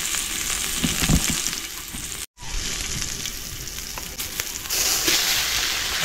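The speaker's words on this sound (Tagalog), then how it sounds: "Magagisa tayo ng sibuyas." Onions sautéing in hot oil for ginataang labong with blue crab, a loud, dense sizzle running throughout with a momentary cut in the middle and light stirring scrapes, heard up close without speech.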